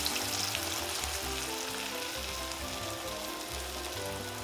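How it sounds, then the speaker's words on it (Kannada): Chana dal vadas sizzle and fry steadily in hot oil, a dense continuous crackling hiss that stays loud and even throughout with no voices. "ನೋಡಿ ಇವಾಗ ಆಯಿಲ್ ಬಿಸಿಯಾಗಿದೆ. ಈ ಥರ ರೌಂಡ್ ಶೇಪ್ ಕೊಟ್ಬಿಟ್ಟು ಹಾಕಿ."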